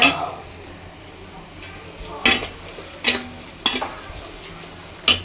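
Onions frying to a brown colour in a pan in a village kitchen, with a soft background sizzle broken by several sharp scraping clatters of a utensil against the pan.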